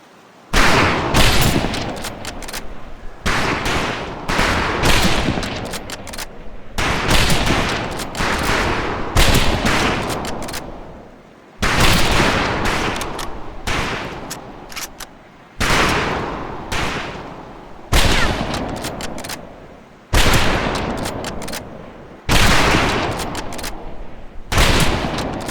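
Rifle fire at a shooting range in the Pacific Assault game, heard as loud, close shots in repeated bursts, each crack trailing into a reverberant decay, with short gaps between volleys.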